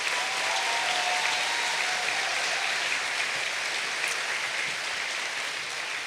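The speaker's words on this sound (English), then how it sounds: "Let us have one more round of applause for the graduates of 2026." A crowd at a 2026 graduation ceremony applauds the graduating class, producing a sustained, dense wash of clapping that stays even and fairly loud throughout.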